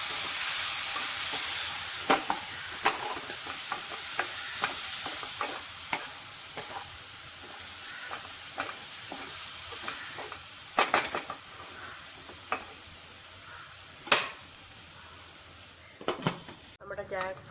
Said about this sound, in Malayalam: നമ്മുടെ ജാക്ക് ഫ്രൂട്ട് ചങ്ക്സ് വേവിച്ചത് അതിലേക്ക് ഇട്ട് ഇളക്കാം.